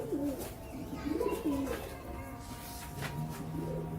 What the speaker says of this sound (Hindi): ये सलीम बाड़ी ने गिफ्ट किए हुए कबूतर हैं